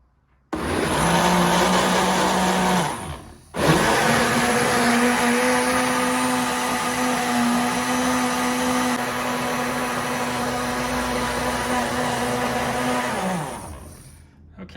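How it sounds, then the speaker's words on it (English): A high-speed blender whirs on an oat milk mixture, spinning up, dipping briefly, then holding a loud steady drone for about ten seconds before winding down. "now we're going to put this on high-speed blend for about 2"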